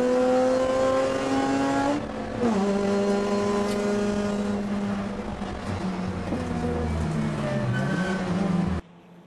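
A high-pitched 9,000 RPM rotary engine in a Mazda RX-8 touring race car screams as it revs and shifts gears, rising and dropping in pitch, loud and sustained.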